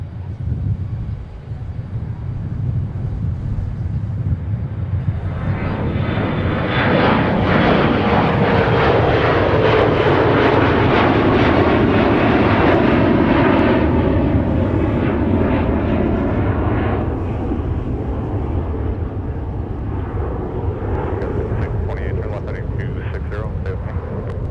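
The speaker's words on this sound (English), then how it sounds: "United Express getting airborne with the" A United Express Embraer E175LR jet taking off at Minneapolis–Saint Paul airport, its engine roar swelling loud and broad before easing off as it climbs away, with a voice talking over it.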